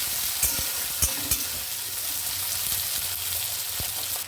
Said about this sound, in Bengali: তারপরে আমি পেঁয়াজগুলো দিয়ে বেশ অনেকটা কোয়ান্টিটিতে পেঁয়াজ লাগবে পেঁয়াজটা একটু লাল লাল হোক